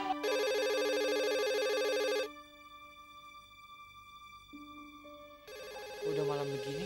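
Telephone ringing at night, a loud electronic ring in two bursts separated by a quieter sustained tone, with faint other sounds between.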